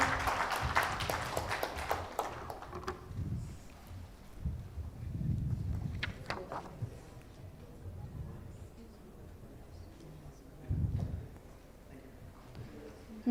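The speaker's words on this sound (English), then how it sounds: "Please, big round of applause for Mr." A short round of audience applause at a fintech forum opens the clip, distant and soft, then fades into scattered claps, low rumbling room noise and faint talk.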